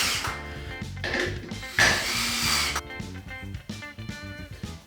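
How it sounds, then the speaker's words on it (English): Power driver running screws through a timber backplate into a brick wall for guitar hangers, a whirring motor that speeds up and slows in bursts with grinding strain, close up. "And now I'm screwing into the wall to get a good fix in."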